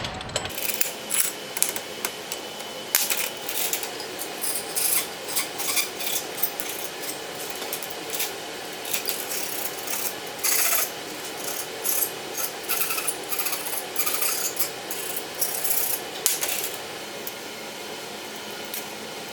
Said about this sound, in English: I'll also go and grind off any of these that are a little bit too big.